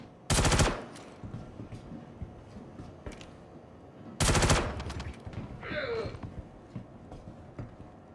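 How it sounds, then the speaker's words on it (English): Two short, loud bursts of rapid unsuppressed gunfire in the Star Citizen video game during a bunker mission, about four seconds apart, with quieter game ambience and faint sounds in between. "I'm not using the suppressor on this gun"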